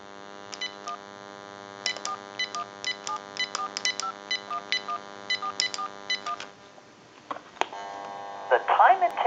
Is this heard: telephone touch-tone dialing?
yes